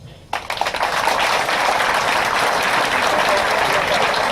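An audience at a youth volunteer communicators' event in Gabon bursts into applause after a short quiet moment, and the dense, loud clapping holds steady to the end.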